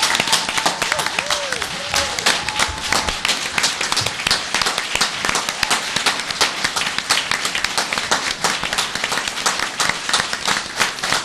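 Sustained applause from an audience at a school board of trustees meeting, dense clapping running steadily for about eleven seconds with no pause.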